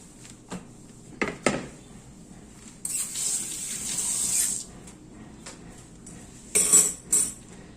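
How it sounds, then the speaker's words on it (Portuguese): Kitchen utensils being washed under a running tap while making a pão de ló sponge cake, with bursts of flowing water, a steady hiss of spray and a few clinks of utensils against the sink, moderately close. "Eu fico lavando os utensílios"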